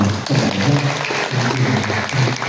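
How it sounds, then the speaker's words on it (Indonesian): Applause from an audience at a Sundanese community anniversary gathering in Bengkayang, a steady dense clapping that fills the room, with low murmurs and voices mixed underneath. "Tepuk tangan."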